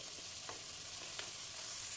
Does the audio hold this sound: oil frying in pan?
yes